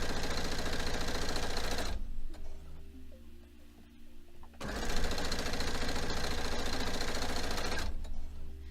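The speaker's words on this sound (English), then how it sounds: "And then I'm going to start sewing my row 2s." A sewing machine stitches rows of quilt pieces, sewing straight over the pins. Its steady, loud mechanical whir runs continuously, stops for a couple of seconds, then starts up again.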